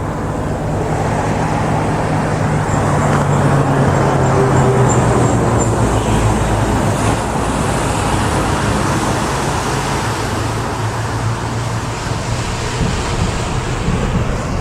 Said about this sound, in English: the traffic is working its way through the detour bridge